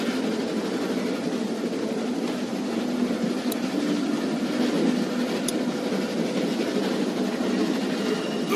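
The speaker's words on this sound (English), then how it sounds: "Stop the train." A train rolls along rails in The Walking Dead video game, a steady rumbling clatter holding level for several seconds with faint metallic clicks and no voices.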